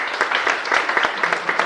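Warm congregation applause in a church service, a brief burst of many hands clapping at steady density, moderately loud and alone without talk.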